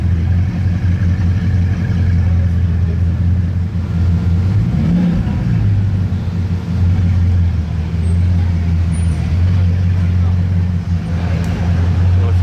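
A Bugatti Divo's deep exhaust rumble drones steadily at close range, swelling briefly in the middle with a rising roar, while people talk over it.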